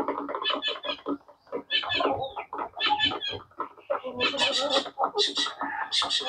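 Chickens cluck steadily nearby as they peck through leftover feed from the goats' feeding, a busy overlapping chatter that fills the whole stretch, with a person talking over it.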